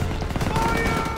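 An MG42 machine gun nest fires steadily in Call of Duty WW2, a loud, continuous stream of rapid shots. Distant battle ambience runs beneath the firing.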